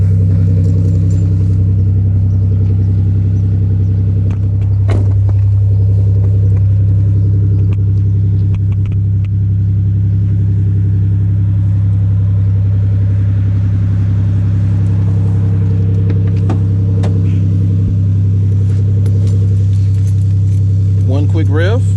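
A Chevrolet Monte Carlo V6 with a modified exhaust idles steadily outdoors, a loud, constant low rumble lasting throughout, with brief mechanical clicks and a faint rise near the end.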